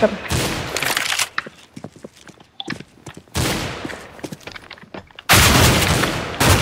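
Bursts of rapid gunfire in the CS:GO video game, loud sustained volleys broken by gaps with scattered single shots and faint chatter.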